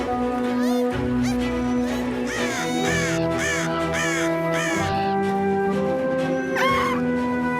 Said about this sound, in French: Wombly est en train d'éloigner les corbeaux